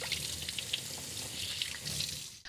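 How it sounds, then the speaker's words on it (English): A kitchen tap runs steadily into a sink during handwashing before cooking, a continuous close splashing hiss with small drips and clinks, no voices. "let's wash our hands."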